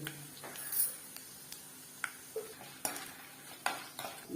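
Ginger and spices such as mustard seeds and chana dal tempering in ghee and oil in a pan for rava kichadi, a soft sizzle with scattered light clinks and scrapes of a spoon, close and quiet.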